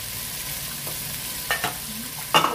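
Water is poured into a sizzling pot of salmon sinigang sa miso. A steady frying hiss runs throughout, then two sharper splashing bursts sit near the end.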